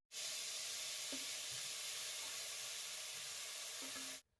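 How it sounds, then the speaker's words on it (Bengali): Broccoli seasoned with salt and turmeric fries lightly in a pan, a soft, even sizzle that holds steady for a few seconds with a couple of faint clinks, then stops abruptly. "এই ব্রোকলিগুলোকে হালকা করে ভেজে নেবো"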